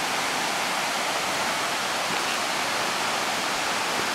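Twin Falls in Pickens, South Carolina pours with a steady, dense roar of falling water. It is loud and continuous with no breaks, and no voices or other sounds are heard.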